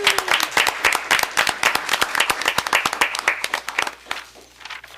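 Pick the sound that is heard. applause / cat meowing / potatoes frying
applause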